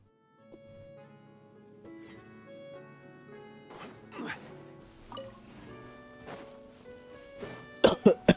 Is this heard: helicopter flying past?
no